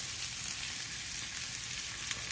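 Shakshuka vegetables fry in a pan with cumin, paprika and garlic granules aboard a narrowboat, giving a steady, close, even sizzle with no talking.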